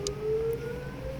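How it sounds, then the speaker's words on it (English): An air raid siren wails across Israel, a single sustained tone in the distance that holds steady for a moment with a faint low rumble beneath it. "while air raid sirens reverberate across Israel"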